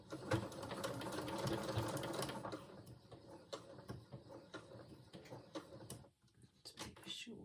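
A sewing machine back stitching on a pair of pants, heard as a quick whirring burst followed by sparser clicks and knocks, close by and fairly quiet.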